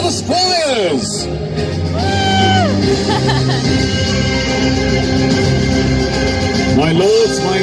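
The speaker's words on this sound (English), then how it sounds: "Raise a cheer for the squires!" An arena crowd at a medieval tournament show roars and whoops for the squires, with rising yells near the start and continuous loud cheering after them.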